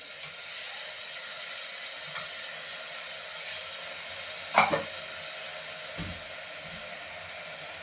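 Chopped spinach sautéing in hot oil, a steady soft sizzle throughout with a few faint scrapes and one clear stirring clatter near the middle, close and quiet.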